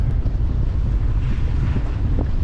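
Steady buffeting wind gusting to 23 knots roars across the microphone, a continuous low rumble with rushing gusts and no voices.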